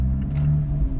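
Steady low exhaust drone from an Abarth 124 Spider on the move, recorded at the back of the car, moderately loud and continuous with slight wavering and no voices.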